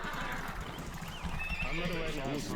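A horse in the Age of Empires 2 strategy game whinnies with clip-clopping hooves, set against dense game sounds while someone talks over it.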